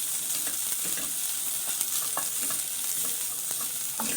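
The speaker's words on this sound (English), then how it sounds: "Now add the garlic, chopped garlic and chopped ginger." Chopped garlic and ginger sizzle and crackle in hot oil while being stirred, a steady close frying hiss with intermittent scraping pops and no talking.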